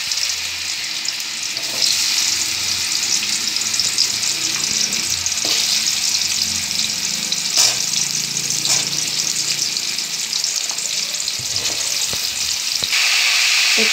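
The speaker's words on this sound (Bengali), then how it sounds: "এবার আমি কাঁচা আমগুলো ছেড়ে দিচ্ছি।" Raw mango pieces frying in hot mustard-oil tempering for a spicy jaggery pickle, a loud, steady sizzle that swells after the drop-in, with occasional spoon clinks and scrapes and no voices.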